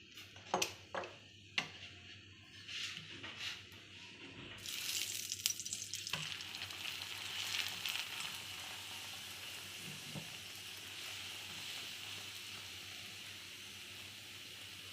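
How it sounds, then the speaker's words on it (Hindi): Lachha paratha frying on a hot griddle as oil is added: a few early taps and clinks, then a sizzle that jumps up sharply and settles into a steady, moderate hiss to the end, no talk. "अब इस पे ऑयल डालेंगे।"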